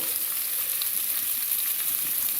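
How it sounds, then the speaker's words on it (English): Garlic fries in oil in a pan, giving a steady, close, bright sizzle with no pauses. "Oil and aglio, oil and garlic, just fried up in a pan."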